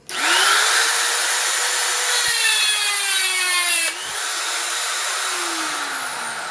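Dremel 300 Moto-Tool rotary tool spinning near 30,000 RPM as its cutoff wheel grinds hard into a nail held in a vise, a loud steady whine with gritty cutting noise that drops in pitch under load, then eases and continues alone.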